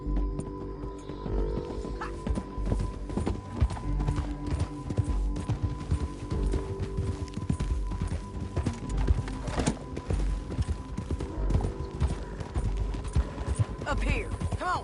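Steady horse hoofbeats clip-clop along in Red Dead Redemption 2, beneath a constant low hum and scattered background sounds, with a voice briefly heard in the mix.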